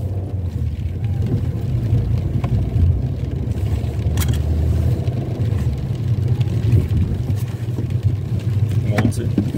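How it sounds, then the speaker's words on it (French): A car rolls slowly as it is parked at a house, with a low steady engine rumble and a few light scrapes and clicks, while someone talks intermittently inside. "On va garer la voiture"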